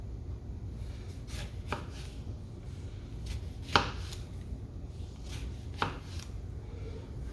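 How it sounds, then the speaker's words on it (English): A knife cuts thin slices on a cutting board, producing a handful of crisp, isolated chops spaced a second or two apart over a low steady room hum. "just slice it up. Fairly thin, about an 1/8 inch thick slices."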